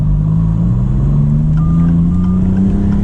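A 2024 Maserati MC20 engine drones steadily from inside the cabin in sport and manual mode, its pitch climbing gradually as the car accelerates through gears, with no talking.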